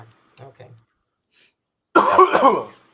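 A single loud, explosive sneeze bursts out after a few quiet murmured sounds, close and sharp, trailing off over about a second.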